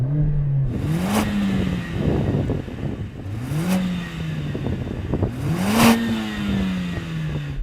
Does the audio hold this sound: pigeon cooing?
no